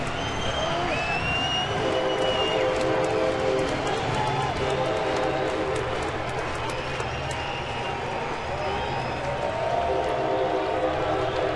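A train rolls past near Safeco Field during a baseball game, its steady rumble running throughout the stretch, with horn-like tones rising above it and a commentator talking over the sound.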